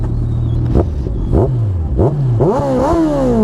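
Honda CBR1000RR motorcycle with an aftermarket Two Brothers exhaust revs hard several times, each blip rising and falling in pitch, loud and close over a steady rumbling idle.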